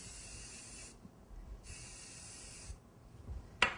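Colour spraying onto rice paper for a cake decoration makes two soft hissing bursts about a second each, separated by quiet pauses, followed by a brief sharp click.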